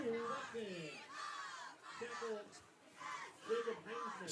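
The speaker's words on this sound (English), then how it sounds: "And we get fired up from the Bomber cheer squad." A high school football cheer squad chants and shouts in rhythmic bursts at a Macomb Bombers game, a crowd of voices rising and falling at moderate distance.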